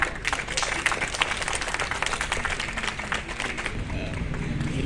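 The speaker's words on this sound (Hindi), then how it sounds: "जोरदार तालियां" Applause at a municipal flag-hoisting and honours ceremony, a dense continuous clapping from a crowd that holds steady and loud throughout.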